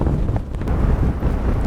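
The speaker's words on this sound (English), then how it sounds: "It is super windy up here." Strong wind buffets the microphone at a scenic overlook above petrified sand dunes in Snow Canyon State Park, Utah, a loud continuous roaring rumble with gusty swells and no voices.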